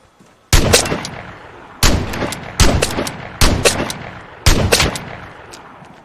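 Five heavy, spaced gunshots from a favorite long-range rifle in the shooter game Vigor, each a sharp loud crack with a short echoing tail, fired in a slow steady rhythm with no talking.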